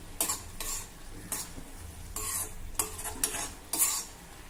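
Pineapple pieces cooking down with sugar in a pan, stirred with a spoon in repeated scraping strokes of about a second each over a low, steady bubbling.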